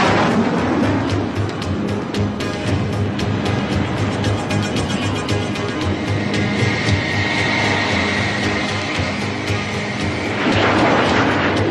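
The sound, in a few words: military jet planes flying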